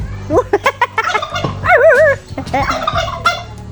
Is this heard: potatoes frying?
no